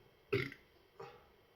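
A burp after a sip of Erdinger Oktoberfest wheat beer: one loud, close, throaty belch, then a softer second one about half a second later, with quiet room tone around them.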